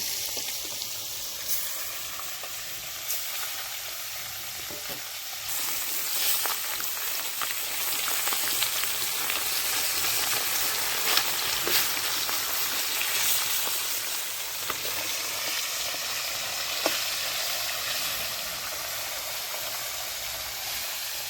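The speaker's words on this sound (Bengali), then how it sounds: "তাহলে এদিকে আমার মাছ ভাজা হচ্ছে।" Betrangi fish fry in a pan with a soft, continuous hiss and sizzle, steady and moderately quiet, with occasional light pops and a few faint clinks. No one speaks.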